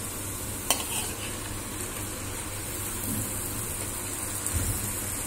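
Gentle stirring of soaked rice for vegetable pulao in a pot, a low continuous scraping swish with a soft sizzle underneath and one sharp clink early on, no talking.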